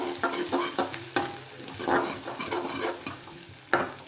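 Onions and green chillies fry in a pan for a pasta recipe, with a gentle sizzle broken by rhythmic scraping stirs and light clatter, heard up close with no talking.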